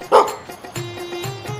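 A dog barks once sharply near the start, followed by a few softer yips and whimpers in a quiet setting, with no talk.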